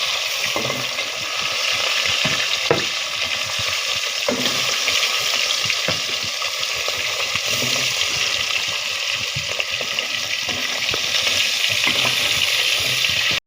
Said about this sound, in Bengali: মাছগুলিকে ভেজে তুলে নিয়েছি